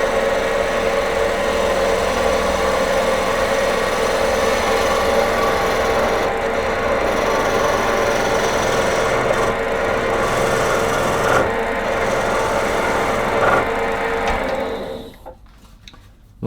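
A bagpipe chanter turned from wood on a lathe with a skew chisel gives a steady, close, continuous rasping cut, holding level for about fifteen seconds before stopping abruptly. No one speaks.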